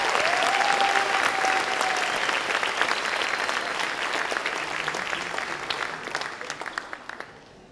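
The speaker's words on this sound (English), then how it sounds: "One more round of applause." A school crowd claps for middle school students at an academic awards ceremony in a hall, dense sustained applause that slowly thins into scattered claps and fades at the end.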